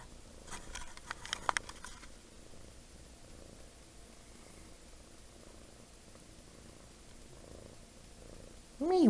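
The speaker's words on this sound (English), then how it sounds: "he's like the loudest purr ever, as you could tell." Close, loud cat purring as a low, steady rumble running throughout, with a few soft taps and rustles early on and a brief voice at the very end.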